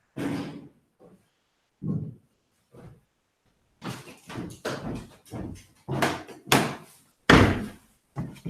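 A door being shut indoors: a series of thumps, bumps and knocks that grow busier and louder toward the end, with no talking.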